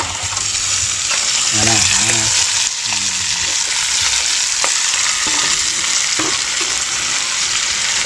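Chunks of taro (gabi) fry in a pan for a Filipino provincial dish, giving a steady, loud sizzle with stirring scrapes. A voice speaks briefly over the frying.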